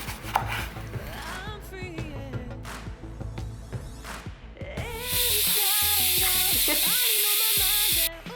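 A home cook slices food with a knife during dinner preparation, giving quick, crisp chopping taps against a board with faint background music, followed by a loud, steady hiss of sizzling that holds for several seconds before cutting off.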